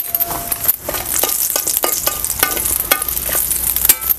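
Whole spices, green and black cardamom, clove, cinnamon and pepper, fry in hot oil in a pan for an egg curry, with a steady close sizzle and repeated scraping strokes of a stirring spoon.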